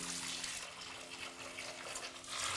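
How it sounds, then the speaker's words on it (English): Absolut Vodka poured from the bottle into a mixing bowl makes a faint, continuous trickling stream with no talking over it. "all I need to do with this is pour this directly into a mixing bowl"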